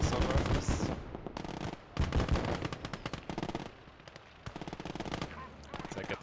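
Bursts of machine-gun fire in the WWII strategy game Gates of Hell, several loud rattling volleys with short gaps between them, standing alone without talk.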